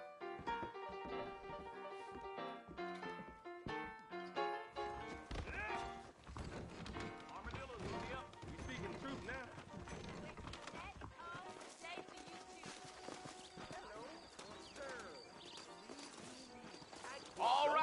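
Horse hooves clip-clop steadily beneath a busy mix of music and voices, with an occasional whinny, in the video game Red Dead Redemption.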